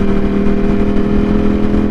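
A Ducati Streetfighter V4S fitted with an Arrow exhaust drones loud and close at a steady engine note, a brief continuous ride-along sound with no talk.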